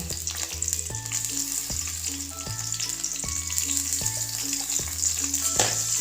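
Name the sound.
crushed ginger, green chilli and onion frying in pan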